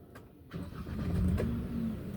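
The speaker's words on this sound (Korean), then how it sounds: "5초 내에 엔진 시동을 거세요" A car engine cranks and catches during a driving licence test, then settles into a low, steady idle close by.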